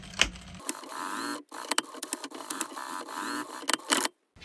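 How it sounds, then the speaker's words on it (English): Sewing machine back stitching over folded fabric on a small pet hammock, a rapid mechanical whirring in short bursts with brief pauses and clicks between runs, close and moderately loud. "I'm going to back stitch over these 2 folded spots"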